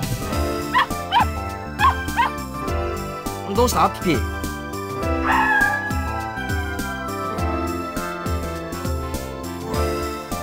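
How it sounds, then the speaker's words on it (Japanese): A dog howls in the visual novel game Ever 17, a drawn-out wavering cry rising over background music, with a character's voice speaking around it. "遠吠えかよ。"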